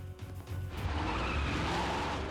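Car racing with skidding tires from the TV show Castle, set in Los Angeles: a loud, continuous engine roar with screeching tire noise that swells after a brief quieter start and holds steady.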